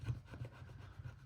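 Scratch card being scraped, a soft dry rubbing in short repeated strokes, quiet and close, with no voices.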